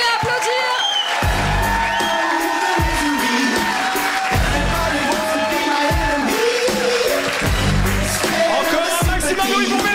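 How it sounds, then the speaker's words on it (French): A comedy club crowd in Liège keeps applauding Médéric, with loud, steady clapping mixed with whoops and cheers while a host's voice breaks in over the noise now and then. "Continuez à applaudir."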